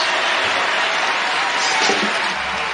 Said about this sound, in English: That cheer you heard was for Caroline Ducharme, who is back for Connecticut tonight